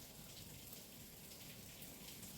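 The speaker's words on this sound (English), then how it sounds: "You guys hear the rain? I love listening to rain." Steady, soft rain falls throughout, a constant even hiss of drops on a surface with no pauses and no voices.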